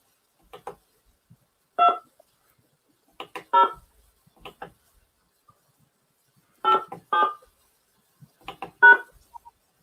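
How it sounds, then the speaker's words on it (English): Telephone keypad tones entering a number on a call-in line, a series of short distinct beeps in uneven groups with silent gaps between them, clear and fairly quiet. "Please enter your show number and press pound."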